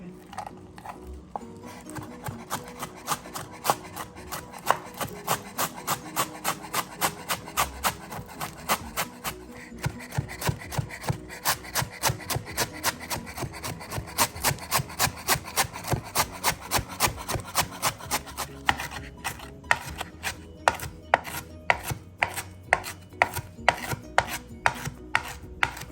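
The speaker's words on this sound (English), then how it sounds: "You want it to almost disappear how tiny you're chopping it." Rapid, steady knife chops on a cutting board as vegetables are minced very finely, a fast even rhythm of close, crisp taps running almost the whole time and quickening toward the end.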